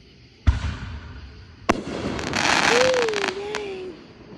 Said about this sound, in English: Thank you for the fireworks.